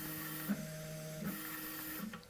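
An Ortur Laser Master 3 20 W laser engraver frames a workpiece, its stepper motors giving off quiet, steady whining tones that shift pitch as the head changes direction, with short mechanical blips in between.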